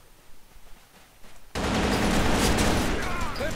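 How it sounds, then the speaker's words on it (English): AK-47 fire in a first-person shooter erupts abruptly after a quieter stretch, a loud, continuous rattling burst that holds steady to the end, with faint talk before it starts. "I know the AK-47 doesn't fire that fast"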